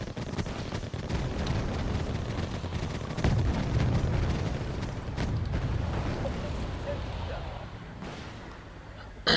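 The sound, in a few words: troops firing and explosions in video game Wargame Airland Battle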